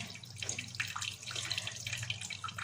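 Tap water runs into a sink while catfish rubbed with cornflour is washed, a soft close splashing flow with faint handling sounds, fairly quiet throughout.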